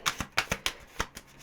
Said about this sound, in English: Oh, it's such an awkward deck to shuffle.